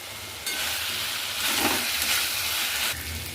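Banana stem and two green chillies sizzle steadily in a hot pan for a shrimp thor ghonto, a loud continuous frying hiss that swells midway with stirring and no voices.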